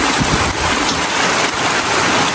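Steady heavy rain pours down, splashing and drumming into water-filled containers, a continuous dense hiss with no pauses.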